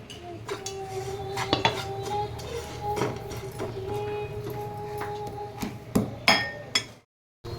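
Jaggery is cut up and dropped into a pan to melt, giving a run of sharp metallic clinks and knocks of utensils against cookware, close and fairly loud, ending abruptly in silence.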